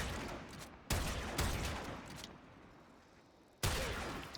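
Gunshots in a video game, with three sharp, loud blasts spaced out over a few seconds, each one followed by a decaying roar that lingers between the shots.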